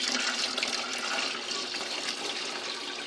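Hot water pouring steadily from a 5-gallon pail into a bucket while making homemade laundry detergent, a continuous loud splashing gush that runs throughout without voices.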